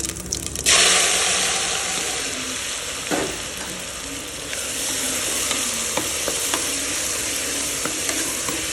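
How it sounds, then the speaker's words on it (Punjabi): Cumin and crushed, pounded spice masala sizzle and fry in hot oil in a pan, with a steady close crackle, stirring scrapes and small pops throughout, and no talking. "ਜੀਰਾ ਤੜਕਣਾ ਹੋ ਗਿਆ ਹੁਣ ਆਪਾਂ ਜਿਹੜਾ ਕੁੱਟ ਕੇ ਰੱਖਿਆ ਹੋਇਆ ਆਪਣਾ ਮਸਾਲਾ ਕਰਾਂਗੇ"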